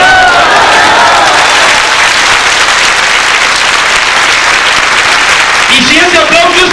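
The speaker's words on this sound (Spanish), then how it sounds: "Y si ese aplauso es para Dios, debe de ser más fuerte el aplauso." A church retreat congregation bursting into loud, sustained applause, a dense roar of many clapping hands with crowd voices and cheering mixed in throughout.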